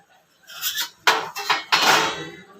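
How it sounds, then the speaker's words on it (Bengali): Metal lid lifted off a pot of simmering Bengali fish curry with drumsticks and potatoes, giving a few close clanks and scrapes of metal on metal, one soft rattle followed by two louder knocks, with no talking. "মিনিট 2-3 পরে ঢাকনাটা খুলছি।"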